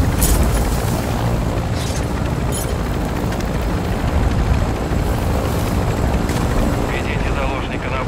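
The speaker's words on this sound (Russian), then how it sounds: "Ударный вертолет противника летит в..." An enemy attack helicopter in Call of Duty DMZ drones steadily and loudly throughout, with bursts of rumbling noise layered over it.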